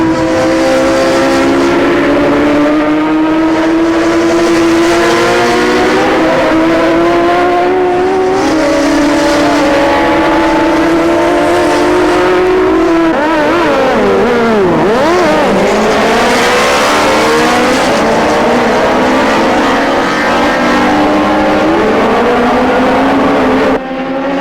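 Loud racing motorcycle engines scream past at an OMRRA road racing championship in Portland, Oregon, rising and falling in pitch through gear changes, with one machine sweeping close by in a sharp Doppler pass.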